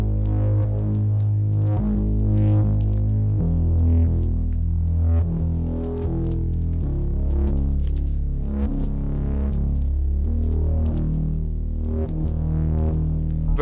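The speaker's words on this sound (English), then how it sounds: "the last sound I added is this Bane's Mask hard bass." A heavy hard-bass sample called Bane's Mask plays in FL Studio, a loud, sustained low boom that moves in steady stepwise notes with a throbbing pulse throughout, alone with no talk.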